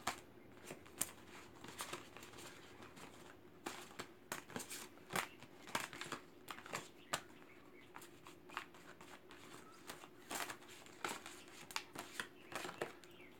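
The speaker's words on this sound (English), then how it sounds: "Okay, so shuffling now for Doll." Soft, repeated riffling and slapping of tarot cards being shuffled, close and quiet, with irregular bursts over a faint steady hum.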